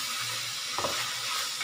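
Chow mein being stirred and fried in a hot pan, with a steady sizzle and a brief louder scrape of stirring near the middle, heard up close with no talking.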